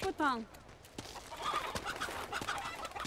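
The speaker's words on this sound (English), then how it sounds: "Oh, lots of chickens." Chickens clucking in the video game Uncharted 2, a short burst of squawks at the start followed by softer scattered clucks and pecking in the background.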